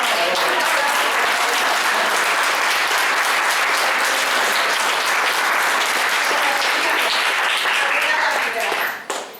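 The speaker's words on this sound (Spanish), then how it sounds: "un aplauso a la maestra organizadora" Audience applause at a panel session, loud dense clapping sustained throughout and tapering off at the very end.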